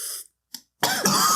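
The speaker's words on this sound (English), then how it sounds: "Coughing's bad." A dry cough, short and close, hacked out twice with a silent gap between and a rougher, breathy burst at the end.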